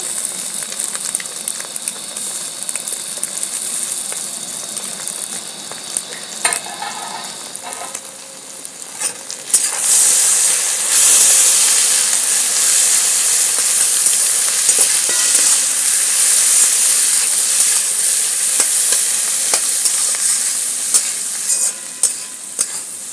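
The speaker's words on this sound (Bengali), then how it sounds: "টমেটোর আর কাঁচা লঙ্কা দিয়েও ফ্রাইটা ভালো করে হয়ে গেছে" Tomatoes and green chillies frying in oil alongside fried eggs, a steady loud sizzle with bursts of spattering and occasional stirring scrapes, close and continuous throughout.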